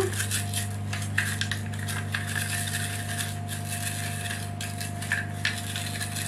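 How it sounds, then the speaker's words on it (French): A hand-cranked moulinette food mill grinding parsley in a kitchen, with faint repeated metallic clicks and scraping under a steady background hum, no talk. "Ça fait moins de bruit la moulinette."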